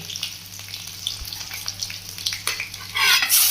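Mustard seeds and garlic sizzle and pop in hot oil in a Tamil home kitchen, soft crackling with scattered sharp spatters and scraping, building to a louder hiss near the end.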